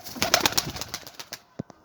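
Soft pigeon coos sound close by amid a few quick clattering taps, then two short low calls near the end.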